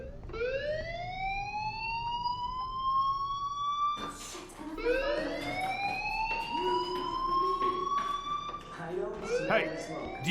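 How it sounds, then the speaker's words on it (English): A school fire alarm in the video game Life Is Strange wails with repeated rising sweeps, loud and siren-like, cycling several times, with a cut and restart midway. "do you hear that fire alarm? That means you should be outside."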